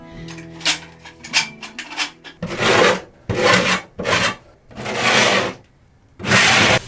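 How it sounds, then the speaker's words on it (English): A trowel spreads construction adhesive on a garden shed being turned into a bathroom, making repeated rasping scrapes in distinct strokes with short pauses between them. A few lighter clicks and taps come first, close and fairly loud. "I am going to spread it with a trowel, see if I can get some more coverage."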